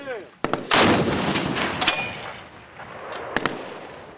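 A single heavy 100mm tank cannon blast at a firing range booms out and echoes away, followed by a couple of sharper distant bangs.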